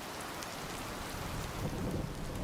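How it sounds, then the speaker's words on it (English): Steady rain falls heavily and close, a constant hiss with a low rumble rising toward the end, and no voices. "I feel like the rain's gonna be too loud."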